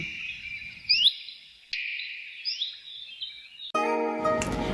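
Wild birds singing, clear high chirps and warbling phrases repeating over a few seconds, close and fairly loud, with a brief burst of other noise at the end.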